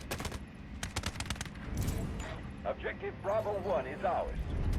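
Gunfire in the Delta Force Mobile video game: rapid bursts of automatic shots, loud and close, with someone talking over the shooting.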